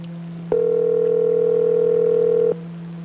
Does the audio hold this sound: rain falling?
no